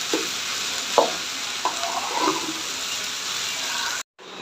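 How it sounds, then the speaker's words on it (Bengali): Data greens stir-fry in a pan, a steady sizzle broken by a few sharp clinks and scrapes of a spatula against the metal, before the sound cuts out briefly near the end. "মিশিয়ে কিছুটা ভাজা ভাজা করে নামিয়ে নিলেই সুন্দর হয়ে যাবে।"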